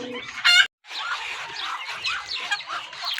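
Desi chickens on a poultry farm: one loud, brief crowing call, then a steady stream of overlapping clucks and chatter from several birds close by.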